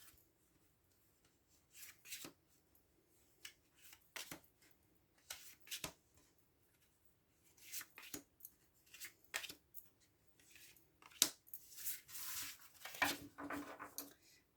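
Tarot cards being drawn from a deck and laid out on a table, soft scattered sliding and flicking card sounds in short bursts with quiet gaps, close and faint, busier toward the end.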